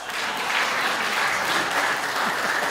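An audience at a Hindi comedy performance claps steadily, a dense and continuous round of applause filling the space without pauses.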